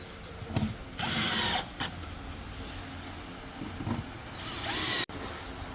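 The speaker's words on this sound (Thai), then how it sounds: "ให้ลูกค้านำน็อตตัวดีนะครับ ตัวนี้นะครับ ตัวยาวนะครับ ยิงตรงนี้นะครับ" A power drill drives long screws into a TV stand, model TV1502, in two short whirring bursts separated by quieter handling and clicks, close and fairly loud.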